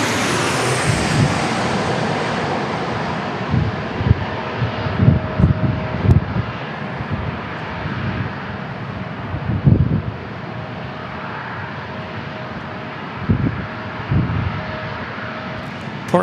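Airliner coming in to land at San Diego International Airport, a broad, steady roar of jet engine noise with low rumbling swells, heard alone without voices.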